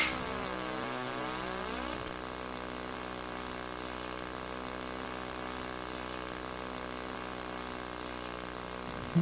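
Twin-engine B-25 Mitchell bomber in an RC flight sim game droning steadily with one engine shut down, a continuous harmonic engine hum that wavers in pitch early on before settling into an even tone.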